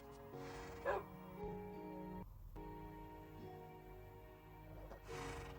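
Dogs in Minecraft give repeated short barks and yips mixed with whimpers, fairly faint and spread across several seconds over a steady musical backdrop.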